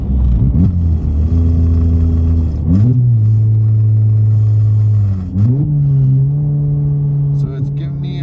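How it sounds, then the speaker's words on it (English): A Volkswagen MK7 GTI exhaust drones loudly and close up, with two quick rising revs as the engine is blipped for rev-matching between gears, then settling back to a steady hum. "I'll turn my exhaust on so you can hear it."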